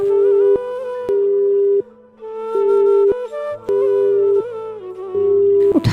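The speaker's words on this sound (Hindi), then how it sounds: "आपने जिस व्यक्ति को कॉल किया है वह अभी दूसरी कॉल पे व्यस्त है।" A telephone busy signal plays as loud, steady electronic tone pulses that shift slightly in pitch and repeat with short breaks, with no voices over them.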